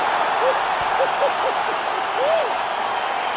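A video game crowd in EA Sports UFC 4 cheers after a fight-ending knockout, a steady broad roar with a few rising whistles cutting through, loud and continuous.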